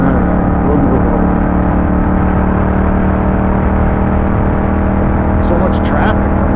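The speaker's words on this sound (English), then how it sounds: "So much traffic coming from nowhere." Highway traffic rumbles past a Yamaha MT07 motorcycle, a steady loud broadband roar of passing cars and engine drone with wind, continuous throughout with no speech.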